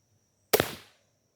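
A Ballista MEGABAT crossbow, a 330 lb draw hunting crossbow, fires a lighted field-tip bolt in one sharp, loud release crack that fades over a short ringing tail, standing alone in quiet.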